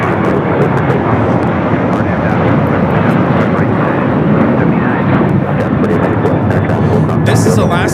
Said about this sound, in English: 1374 taking off to Zihuatanejo on the 737-900ER